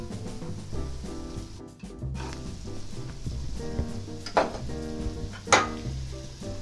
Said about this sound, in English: we're going to cook it for about 5 minutes and get it nice and softened